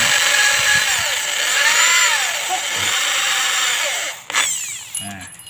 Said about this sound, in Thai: ใช้ดอกสว่านห้ามิลนะ